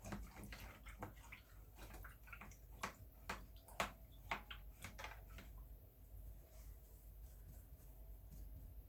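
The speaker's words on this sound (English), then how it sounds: "I'm going to wash my brush." A paint brush is washed in water, with faint splashy swishing and small ticking taps of the brush against a container, quiet and irregular throughout.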